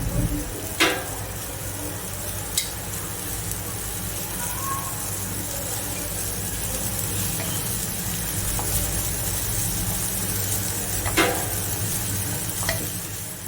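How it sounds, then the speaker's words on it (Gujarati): Dhokli is dropped into boiling curd gravy and stirred in a pot, giving a soft, steady bubbling simmer with a few sharp spoon clinks against the vessel. "હવે આપણું દહીં ઉકળી ગયું છે, તો હવે આપણે એમાં ઢોકળી નાખીશું."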